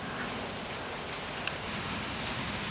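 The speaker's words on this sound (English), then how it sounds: "we're going to get a little bit of rain in here." Light rain begins falling on a farm as a storm rolls in, making a steady, even patter with one sharper drop partway through and no voices.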